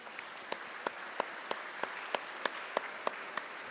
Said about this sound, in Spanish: ¿Les damos otro aplauso mientras se retiran ellos?